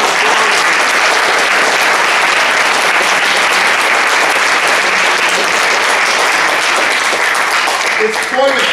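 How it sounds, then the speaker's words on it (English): Sustained applause from a high school band concert audience for the band students, dense and steady throughout and tapering slightly at the end with a few louder claps. "Let's give those students a round of applause."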